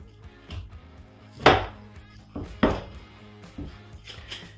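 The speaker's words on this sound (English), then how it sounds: "you can just cut it into steaks as thick or as thin as you'd like" A knife slices a faced beef loin into steaks on a cutting board, giving a few soft, irregular thunks and cuts over quiet background noise.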